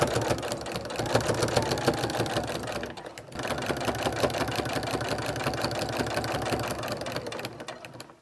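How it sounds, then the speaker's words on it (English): A sewing machine stitching a seam on a quilted throw pillow at a long stitch length runs with a continuous, rapid mechanical chatter, close and steady, pausing briefly midway before resuming. "And I'm going to keep stitching until I hit the next corner."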